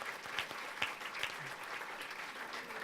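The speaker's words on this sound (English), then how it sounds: "I want you to give a round of applause for your state rep." Audience at a Democratic gubernatorial candidates' forum applauds a state representative, a steady, moderately distant patter of clapping with a few sharper claps, no talking over it.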